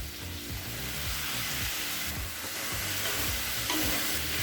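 Potato, drumstick, brinjal and raw banana sauté together in a pan for village-style kootanchoru, a continuous close sizzle punctuated by steady rhythmic stirring scrapes, without speech.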